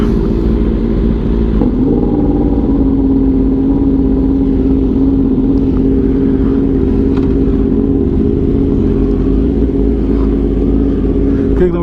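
A Yamaha R1 sport bike's engine runs loud and steady close by, a constant droning rumble throughout that swells slightly, with some mixed road and motor noise around it.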